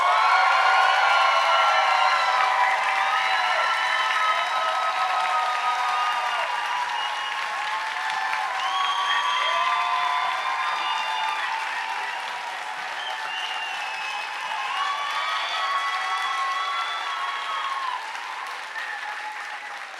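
A science slam audience claps and cheers in sustained, dense applause with whoops, steady and loud throughout before slowly fading slightly.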